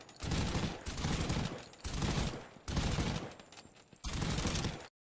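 Bursts of rapid automatic gunfire from a game in development, five loud sustained volleys separated by short gaps, cutting off sharply at the end.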